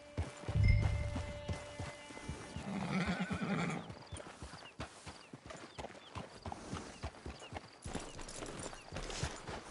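A horse in the Red Dead Redemption Online video game whinnies loudly, followed by a steady clip-clop of hooves walking close by, with game ambience behind it and no one speaking.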